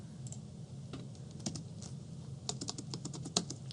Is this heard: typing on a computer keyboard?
yes